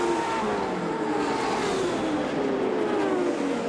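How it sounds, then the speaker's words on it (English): IndyCar race cars circling the Milwaukee short track in 1987, engines droning loud and continuous with a steady high whine that shifts pitch as the cars sweep through a corner together. "That's Johnny Rutherford that moves out of the way of Mario Andretti as they come out of the second corner."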